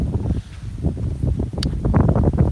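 Gusty, cold wind outdoors in Japan buffets the microphone in uneven bursts, loud and close, with rumbling low-pitched noise that swells and fades.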